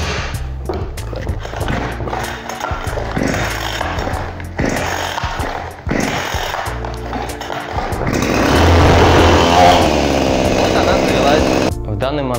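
Huter BS-45M petrol chainsaw being started: several sharp pull-cord bursts, then the engine catches and runs with a loud, sustained buzz, close by, with someone talking over parts of it.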